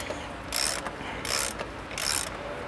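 A hand ratchet with a 21 mm socket and special tool loosens the oil filter cap on a BMW 335i with the N54 engine. It makes three close, loud bursts of rapid clicking separated by brief pauses, with no talking.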